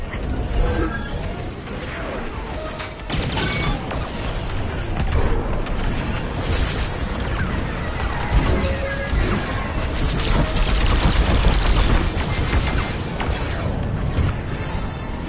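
A capital cruiser blows apart in Star Wars Squadrons, a loud sustained roar of booming blasts and crashing debris rolling on for several seconds, with sharp bursts and laser fire layered through the din.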